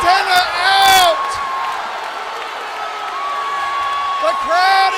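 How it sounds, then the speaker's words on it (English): Fight crowd roaring and whooping after a knockout, loud and sustained, with sharp whistles and shouts rising at the start and end while a commentator talks over the noise. "The crowd is going crazy."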